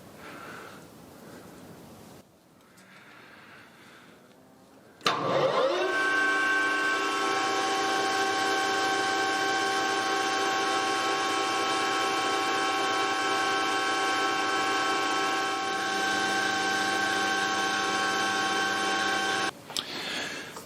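A machine tapping a 3 mm thread at 1300 rpm: after a quiet start it spins up sharply into a loud, steady tonal whine that holds for about fifteen seconds, then cuts off abruptly.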